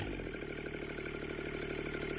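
A Kubota D722 diesel engine running with a fast, even clatter of repeating pulses, fairly quiet and steady, with no talking.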